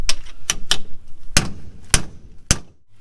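A heavy hammer strikes a lorry brake pad in a garage, six sharp loud metallic blows at uneven intervals, each ringing briefly before the next.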